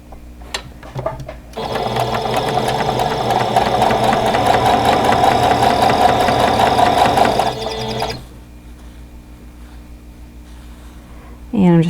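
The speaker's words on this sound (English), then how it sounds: "I'm going to start this with the first block I laid out, and I've got my pieces here, and I'm going to" Sewing machine chain piecing quilt block pieces, a loud, steady rapid stitching hum that starts after a brief pause, runs for about six seconds, then stops, leaving quiet room tone.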